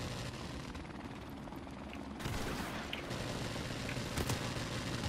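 A helicopter in the video game Call of Duty Modern Warfare 1 Remastered, heard as a steady, loud rotor chop that fills the scene, mixed with bursts of in-game gunfire.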